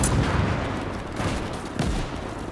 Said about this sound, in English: A lot of cook-offs going on over here.